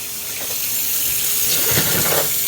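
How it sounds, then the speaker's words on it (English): A Sky twin tub washing machine drains, a continuous broadband gush of water with slight surges, close and fairly loud. "Water will drain down,"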